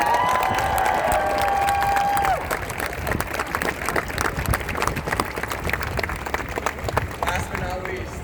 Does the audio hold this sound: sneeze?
no